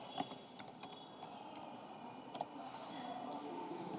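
A few scattered, quiet keystrokes tap on a computer keyboard while entering an Excel spreadsheet, light clicks spaced apart over a faint room hum.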